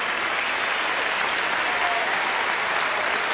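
A large crowd at a 1996 bowling tournament in Erie claps steadily, a dense, continuous wash of applause filling the hall for several seconds without letting up.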